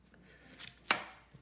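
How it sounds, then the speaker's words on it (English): A knife cuts onion on a cutting board in a couple of soft, quick chops, faint against a quiet room. "start by cutting this. The slivers like the onion."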